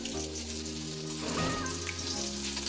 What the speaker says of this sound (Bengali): এবার মাথাগুলো ভাজলেই হয়ে যাবে